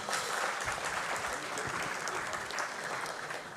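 Audience applause at a national conference on capital markets, a dense continuous wash of clapping from a sizable crowd, moderately distant and steady for several seconds.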